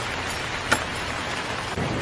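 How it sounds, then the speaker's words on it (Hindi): Heavy rain as a cartoon sound effect, a dense, even hiss of downpour throughout, with a brief sharp crackle near the start. "ऊपर से बहुत तेज बारिश भी हो रही थी,"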